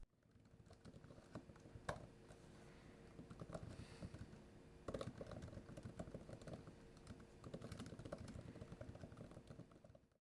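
Soft, quick keystrokes tapping on an iPad Pro keyboard with decent key travel, a steady uneven patter of clicks across the whole stretch, fairly quiet and close, with no voices.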